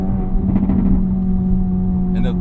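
Acura Integra Type S with a Milltek catback exhaust, heard as a loud, close, steady engine drone under someone talking, with a slight rise in pitch near the end.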